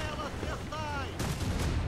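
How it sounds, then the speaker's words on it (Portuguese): Heavy booming fire from a ship's side cannon in a video game, a rumbling blast followed by a second loud burst, with a voice briefly heard beneath. "meu canhão lateral deve ser mais forte"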